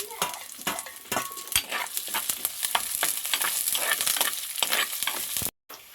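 Mustard seeds, onion, garlic and curry leaves sauté in a pan with a busy, crackling sizzle and frequent scraping stirs, loud and close, ending with a sudden brief cutoff.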